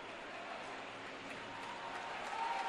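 Steady applause from a large indoor basketball crowd, a continuous wash of clapping that swells slightly louder toward the end.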